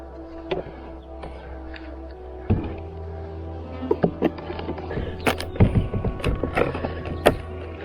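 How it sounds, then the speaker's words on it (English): A stuck wooden beehive inner cover is pried off the outer cover with a hive tool: a few sharp creaks, scrapes and clicks, close by, starting sparse and growing busier, then a final crack. "I don't love that the inner cover is stuck to the outer cover. Let's see if I can pry that before I go."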